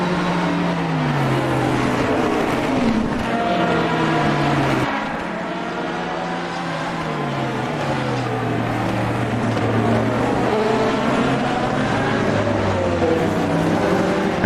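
Race cars passing in a racing game's Fuji endurance race, engines droning and shifting pitch as they rise and fall through gears, several cars overlapping closely in a continuous loud roar.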